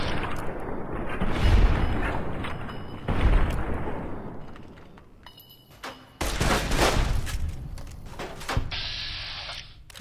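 Gunfire in Fallout: New Vegas, with bursts of loud shots and booming impacts in several clusters separated by a quieter stretch, then a dense sustained volley near the end.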